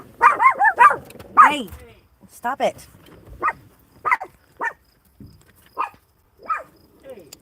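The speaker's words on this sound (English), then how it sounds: "What are you guys barking at?" Several dogs bark in sharp, loud bursts, first in a quick cluster and then in single spaced woofs that thin out, with a person speaking briefly among them.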